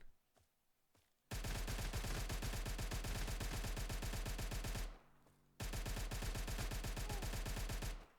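A Bloodhound PKP machine gun fires in a video game, two long sustained bursts of rapid, loud, evenly spaced shots separated by a short pause, with a couple of quieter single shots at the start.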